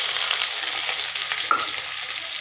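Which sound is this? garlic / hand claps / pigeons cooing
garlic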